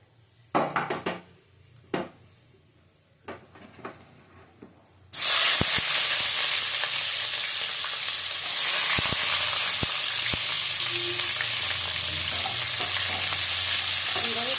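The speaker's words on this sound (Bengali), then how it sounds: "পেঁয়াজগুলো দেবো।" Onions drop into hot oil in a pan with a sudden loud sizzle after a few quiet knocks, then fry steadily with a dense crackle while a spoon stirs them now and then.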